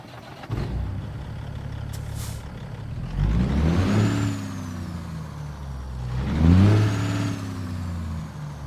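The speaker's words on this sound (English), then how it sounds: "it is powered by a C15 Cat from the Steam Workshop by Slav Jerry, a fantastic straight pipe engine sound mod" Kenworth W900 truck in a driving game with a straight-piped C15 Cat engine sound mod: two separate deep rumbling revs, each swelling loud and falling back to a steady low idle.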